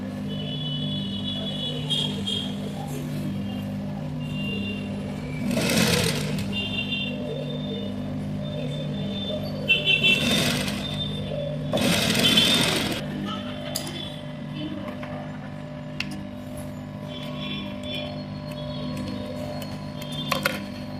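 A sewing machine runs while stitching a baby frock, a steady low droning hum with a few louder surges, heard close and mostly on its own.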